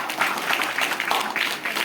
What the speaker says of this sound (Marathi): शिक्षकांसाठी एकदा जोरदार टाळ्या झाल्या पाहिजे